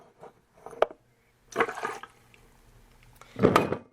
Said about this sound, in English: I am going to add 2 ounces of my favorite gin